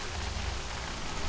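Rain falls in the video game Middle-earth: Shadow of Mordor as a steady, even wash of noise with a soft low rumble, continuous and moderately loud with no talking.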